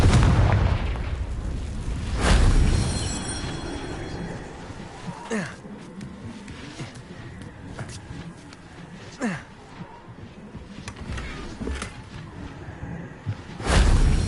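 Confringo spell blasts in the Hogwarts Legacy video game burst out as several booming explosions with whooshing tails, a big one at the start, others scattered through the middle and a final heavy blast at the end.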